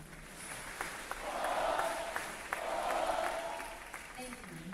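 An assembly audience applauds veterans' family members at a Veterans Day event, a steady wash of clapping that swells and holds for several seconds.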